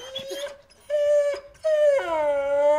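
A mixed-breed dog whines in long, high, tonal cries, rising and held, with short breaks between three drawn-out calls, close and clear with no talking.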